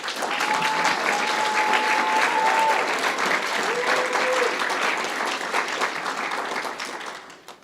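Audience applause for paramedic course graduates at a completion ceremony: dense, loud, sustained clapping from a crowd that holds steady, then tapers off at the end.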